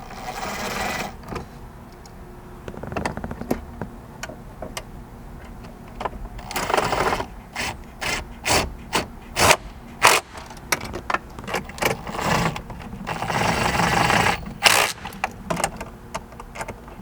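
Screws being driven back in to secure the radio in a Toyota Tundra dash, with bursts of whirring driver noise and sharp clicks and clatter, close and fairly loud, in irregular spurts.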